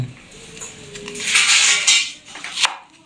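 A knife cuts onions for cauliflower Manchurian, producing close, clattering scrapes and taps against a board, swelling into a denser burst of cutting noise midway before a final sharp knock.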